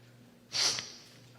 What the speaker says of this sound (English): don't sniffle right into the mic